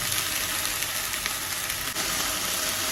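Okra sautéing with salt in a hot pan gives a steady, close, bright sizzle with a faint crackle throughout, broken by one brief dip near the end.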